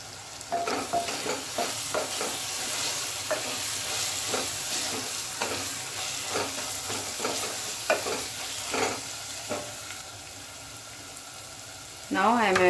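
Green chilies sauté in a pan for a Bengali-style chicken potato curry, with soft sizzling under repeated spoon-scraping strokes at a moderate distance, ending in a brief clatter.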